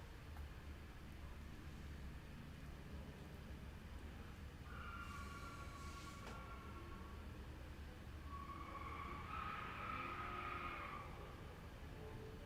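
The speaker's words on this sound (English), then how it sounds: "Someone's peeling skids" Car tyres squealing in a skid somewhere in the distance, two faint drawn-out screeches a few seconds apart over a low rumbling background.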